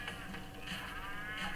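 A cow in the video game Pizza Tower moos in a short, faint, low call that lasts a little over a second, with nothing else sounding.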